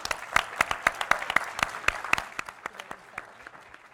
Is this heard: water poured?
no